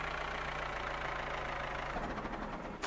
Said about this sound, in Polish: Ty traktorem podjedź kawałek do przodu.